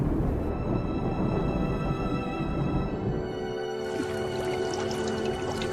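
A cartoon flood surges from a river in an animated retelling of the Lake Toba legend, a loud, continuous watery rush that shifts into a brighter bubbling, pouring tone partway through.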